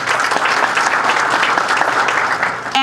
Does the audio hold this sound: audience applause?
yes